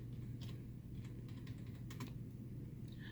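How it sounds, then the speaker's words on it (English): Quiet, scattered clicks of someone typing a search on a computer keyboard, faint over a steady low hum with no talking. "So you type that into your search."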